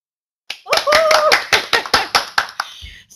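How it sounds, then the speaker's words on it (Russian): Applause at an Oriflame company awards gathering starts abruptly and resolves into roughly ten distinct, evenly spaced claps that fade toward the end, sounding thin, like only a few hands. "Елена, Наталья, наши аплодисменты для вас."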